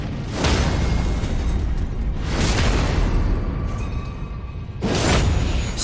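Three heavy booms burst from enemies exploding in a dark-fantasy action game, each a loud, broad blast followed by a rumbling tail, spaced a couple of seconds apart with no talk over them.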